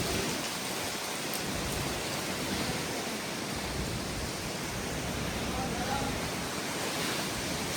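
Heavy rain pours steadily during a village thunderstorm, a dense, loud, continuous roar of hissing water with no pauses and no voices heard.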